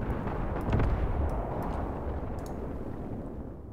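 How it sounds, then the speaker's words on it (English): Mortar fire in the WWII tactics game Graviteam Tactics Mius Front: a steady roar of distant artillery with dull thuds, loudest around one second, then a continuous rumble that fades slowly. "There come my mortars, nice."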